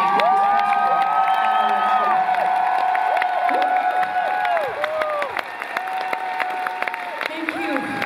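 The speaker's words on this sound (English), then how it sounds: "So give us the loudest applause for everybody that's been making this possible." A concert crowd at a live show in Helsinki cheers and applauds loudly, with sustained clapping under whoops, whistles and shouted voices rising and falling across the audience.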